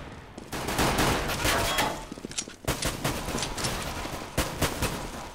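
Rapid automatic gunfire from Counter-Strike: Global Offensive, Mirage map, rattles in dense sustained bursts, breaking off briefly before resuming with more shots and sharp single cracks.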